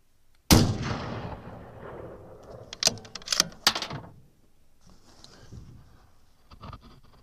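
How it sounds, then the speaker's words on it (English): A single loud Bergara HMR rifle shot during an accuracy test cracks sharply and rings out, followed by a few clattering mechanical clicks and scrapes of the bolt, then quiet handling noise. "That 4th shot was pulled to the right, and that was my fault."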